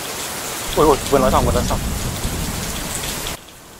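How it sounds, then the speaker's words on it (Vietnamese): Heavy outdoor rain pours as a dense, steady hiss while someone speaks briefly over it, then the downpour cuts off abruptly near the end. "Hiện tại đang mưa rất là to luôn nha."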